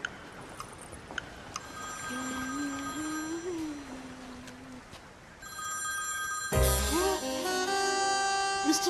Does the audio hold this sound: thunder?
no